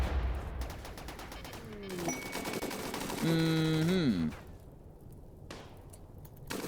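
Turrets in the colony game Rimworld, set in a hostile oasis, fire rapid bursts of gunfire with rattling automatic volleys, alongside rising and falling tonal whines and a loud burst in the middle, with no talking.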